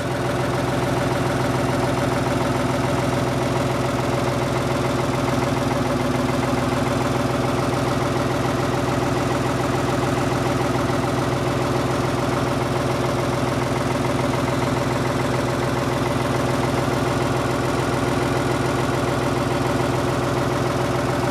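A diesel machine engine idles steadily and close by at a construction site, a constant low throbbing rumble with layered mechanical hum holding even for the whole stretch, with no voices over it.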